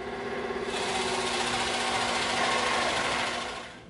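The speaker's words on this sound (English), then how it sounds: "We used the scroll saw instead because we can cut a tighter circle. So we tipped the table and cut it" Scroll saw with its table tilted, cutting a taper through EVA foam: a steady, loud motor-and-blade buzz that runs evenly for a few seconds, then fades out at the end.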